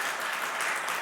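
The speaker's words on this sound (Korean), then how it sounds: "우리 박수로 환영하시겠습니다" Short burst of congregation applause in a church service, welcoming visiting elders: steady dense clapping filling the room from start to finish, no talk over it.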